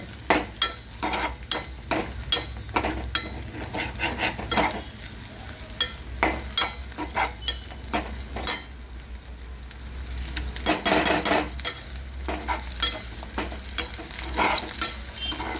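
Fenugreek greens sizzle in a hot pan on a home stove while a spoon repeatedly scrapes and stirs them, giving a constant soft fry broken by sharp clattering strokes. It is close and quiet, with no talk.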